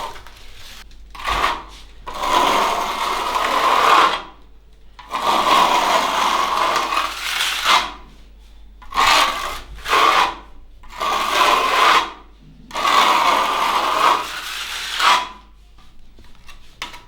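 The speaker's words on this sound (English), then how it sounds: "to make it even, you turn your trowel to a 45-degree angle and it evens it out." Steel trowel spreading and smoothing plaster across a wall, a rough scraping swish repeated in long strokes with brief pauses between passes, close and fairly loud.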